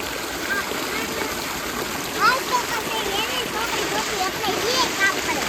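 Water rushes and splashes in a steady, continuous flow nearby, with faint voices mixed in over the noise.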